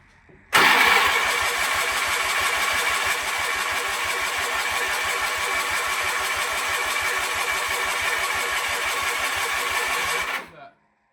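An old Sears engine cranks steadily for about ten seconds, a rapid even chugging rhythm that never catches, loud and close, with no talk over it.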